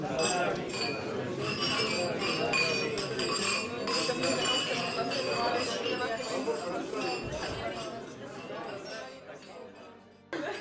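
Glasses clink at a celebratory toast during a chapel consecration gathering, with bright chinks repeating amid a steady murmur of crowd chatter throughout.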